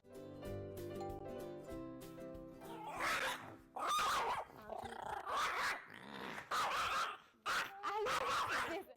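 Dog barking and growling at arriving visitors in a home, a burst of loud, close barks and growls in repeated bouts after an opening musical passage.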